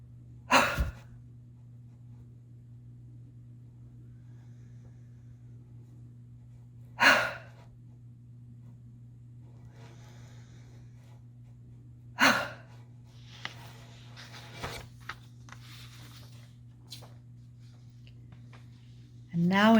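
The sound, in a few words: deep breathing during mindfulness exercise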